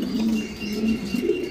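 Lahori, Shirazi and Giribaz pigeons coo in low, repeated rolling notes, several overlapping calls close by with a steady hum of birds in the background.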